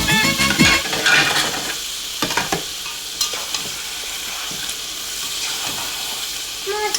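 Pomfret fish cooking with tomato in a pan, sizzling steadily while a utensil stirs and scrapes in short bursts near the start, then settling into a softer continuous fry.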